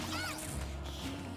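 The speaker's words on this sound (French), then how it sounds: "Une boisson qui est tombée, ou quelqu'un qui a jeté une boisson" A sudden loud smash or clatter of a drink falling or thrown onto a hard surface, in a busy room at a Tekken tournament with background hum.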